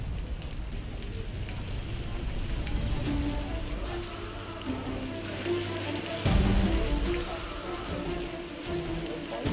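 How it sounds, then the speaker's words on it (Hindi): Heavy monsoon rain falls in Mumbai, a dense steady hiss of drops on hard surfaces with low rumbling underneath, loud and continuous, with a brief surge partway through. "बुधवार को मुंबई और दिल्ली में झमाझम बारिश हुई।"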